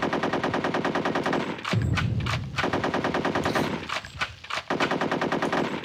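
Rapid, loud automatic fire from players' own guns in a video game rattles almost continuously, broken by a couple of short pauses and heavier thumps.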